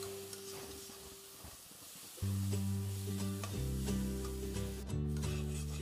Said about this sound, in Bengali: এইখিনি মই এতিয়া খুব ধুনীয়াকৈ অলপ সময়ৰ কাৰণে ভাজিম, মছলাখিনিয়ে যাতে আমাৰ তেল এৰি দিয়ে।